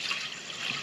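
Water pours through a funnel into a barn-find 1968 Chevy Biscayne that sat off the road for over 35 years, a brief steady trickling splash heard up close.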